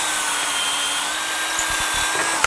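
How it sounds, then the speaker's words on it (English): A long aircraft drill bit bores through hardened bushings into wood with a steady, high-pitched whir, close by and continuous. "There's a long aircraft drill we're drilling with."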